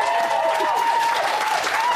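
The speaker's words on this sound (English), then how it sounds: "I think that deserves a round of applause" Studio audience applause for a one-man rock act during a live session, a brief, continuous burst of clapping with a sustained tonal hum running beneath it.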